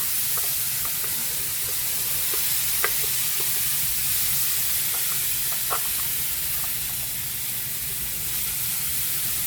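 Refried pinto beans hiss in a preheated skillet with a soft, even sizzle close by, dotted with scattered small pops and stirring sounds and no voices.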